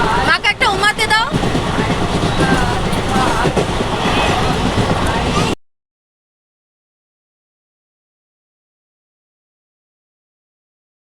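Passenger train interior while moving: a loud, steady rumble and rhythmic wheel clatter for about five seconds, with voices talking nearby, then abrupt silence.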